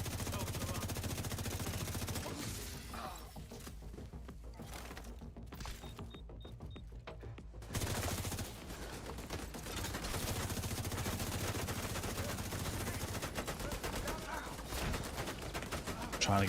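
A turret in The Division 2 fires rapid, continuous bursts that rattle on almost without a break, with one short lull partway through, while a voice talks over the gunfire.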